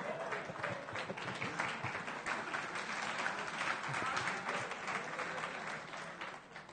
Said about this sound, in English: I think that got more applause than correcting the spelling of Columbia.